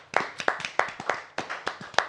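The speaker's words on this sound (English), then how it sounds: "Please give a round of applause." A few people clap for a guest on a podcast set, sparse distinct handclaps in a loose rhythm, close and dry, with no talking over them.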